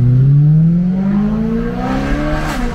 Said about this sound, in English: Listen to this downshifts.